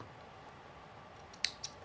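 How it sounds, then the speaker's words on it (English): Scissors snip off a thread tail while a bustle is hand-sewn, giving two or three quick, sharp clicks near the end over a faint room hush. "Snip that."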